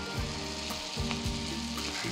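Amboli batter hits a hot, oiled tawa with a steady close sizzle, and a few soft scrapes or pours come through the frying hiss.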